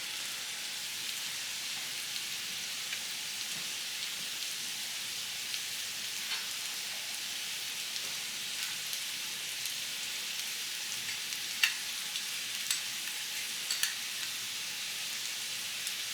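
Ground beef and potatoes with onion and green peppers fry in a pan for a casserole, giving a steady, faint crackling sizzle with a few sharper pops and no voices.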